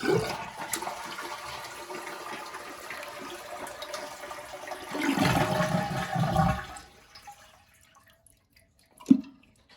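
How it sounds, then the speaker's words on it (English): A toilet flushes with the handle held down to drain the tank, a rushing swirl of water that swells, then drains away to near silence, followed by a single short clunk. "Hold the toilet handle down so we can drain out all the water."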